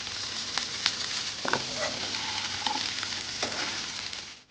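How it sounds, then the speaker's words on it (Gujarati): Garlic and carrot sauté in oil for a paneer gravy, giving a steady soft sizzle with occasional scraping stirs against the pan, close and alone with no talk. "હવે આપણે એને આની અંદર શેકી લઈશું તેલની અંદર, પછી એને ગ્રેવી બનાવશું."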